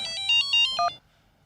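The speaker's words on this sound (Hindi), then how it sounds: "किडनैपर का फोन।" An electronic phone ringtone for an incoming call plays a quick run of bright, repeating synthetic tones for about a second, loud and close, then cuts off into near silence.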